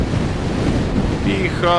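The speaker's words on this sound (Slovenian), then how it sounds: "Piha od hudiča." Strong wind on a hill on the Tibetan plateau, steady and loud, roaring against the microphone throughout.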